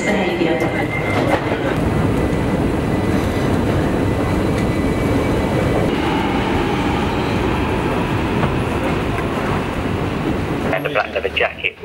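London Underground train running at steady loud volume, a dense continuous rumble and rattle of wheels and carriages throughout, easing off near the end.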